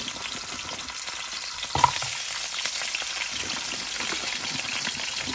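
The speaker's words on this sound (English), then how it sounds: "about 2 tablespoons of oil in there, and I'm gonna fry it" Pre-made potstickers fry in about two tablespoons of oil in a pan, giving a steady close crackle and sizzle with a small clatter near the start and no talking.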